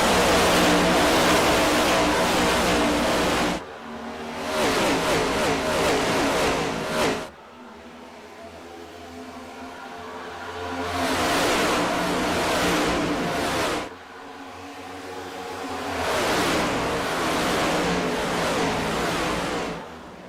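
Race cars in a stock-car racing video game at the Atlanta oval roar loudly and continuously, their engine pitch swelling and dropping as they accelerate, with brief dips in volume between surges.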